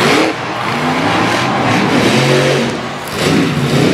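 A monster truck's big engine roars and revs hard through a wild sideways launch at an arena event in Little Valley, New York. The throttle surges loud and close in rising and falling bursts, with no voices.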